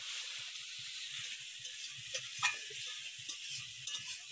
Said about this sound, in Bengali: এবারে একটু পরিমাণ মতো জল, মশলাটাকে একটু হালকা করে একটু কষিয়ে নেবো